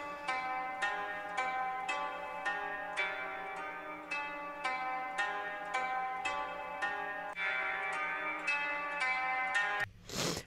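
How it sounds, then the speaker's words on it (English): Synth plucks playing alone in a Soundtrap song mix, a steady rhythmic run of bright, bell-like notes with a low sustained drone beneath, ending in a brief noisy burst. "So the plucks by themselves sound like this."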